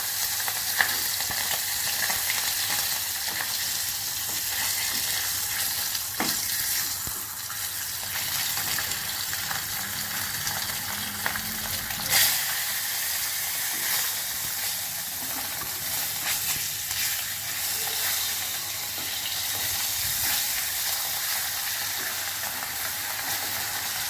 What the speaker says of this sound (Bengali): তার জন্য আমি 2 পিস করে মাছ হালকাভাবে ভেজে নেব।